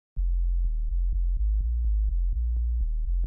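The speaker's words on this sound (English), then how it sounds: "A lot of times I hear people trying to just use a sine wave," A synthesized sine-wave bass for a tech house bassline plays alone, a deep, clean tone repeated in a steady run of about a dozen short notes, each starting with a faint click.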